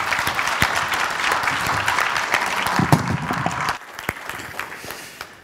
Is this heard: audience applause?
yes